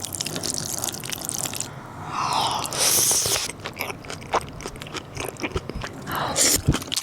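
Rosé mala xiangguo with cream shrimp is eaten up close, with loud wet bites, crunches and slurpy chewing sounds following one another steadily.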